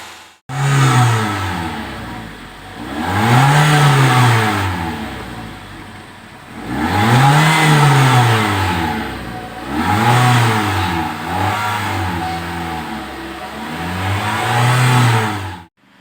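Engine of a 2016 Toyota Sienta idling smoothly after tuning to about 700 rpm, heard up close and loud with repeated rising and falling revs in slow swells.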